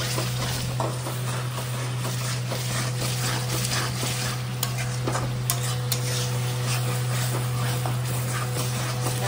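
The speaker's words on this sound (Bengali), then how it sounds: "মশলাটা দেখছো কত সুন্দর করে কষাচ্ছি।" Masala for masala mushrooms is stir-fried in a pan, a continuous close sizzle with occasional scraping clicks from the spatula over a steady low hum, with no voices.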